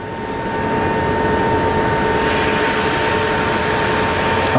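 A Pilatus PC-24 business jet at Geneva Airport gives a steady, loud engine roar that swells slightly and then holds for a few seconds, heard from outdoors at close range.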